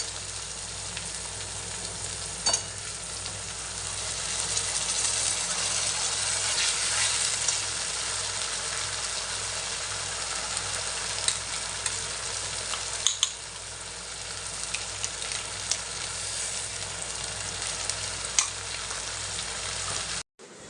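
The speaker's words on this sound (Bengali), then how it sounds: "মশলাটা ভাজা হয়ে গেছে" A spice paste fries in an open pan for a long stretch, a steady close sizzle overlaid with the repeated scrape and shuffle of a spatula stirring it, plus the occasional knock against the pan.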